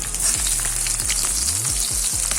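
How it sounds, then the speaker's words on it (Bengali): Carrot and capsicum for fried rice frying in a pan with a loud, steady sizzle, punctuated by repeated scraping strokes of a spatula, no talking. "ক্যাপসিকামটাও আমরা হালকা করে ভেজে নেব"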